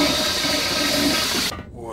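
A toilet flushes with a loud, steady rushing of water that cuts off sharply partway through, leaving a quieter gurgle and refill as the tank drains.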